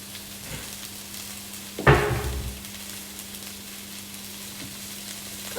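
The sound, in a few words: stir fry sizzling in a pan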